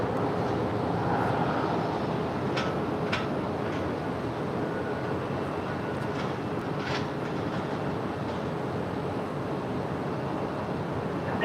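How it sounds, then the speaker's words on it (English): A Qantas Airbus A380, eleven years old and arriving from Sydney, lands on the south side at LAX. Its broad, steady jet roar sounds distant and continuous, with a few faint clicks on top. "That is Qantas Flight 11 landing on the south side coming in from Sydney. It's an 11-year-old Airbus A380."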